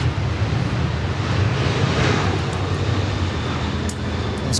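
A Qantas airliner departs Sydney Airport, its engines giving a loud, sustained roar with wind buffeting the microphone, alone and unbroken for a few seconds.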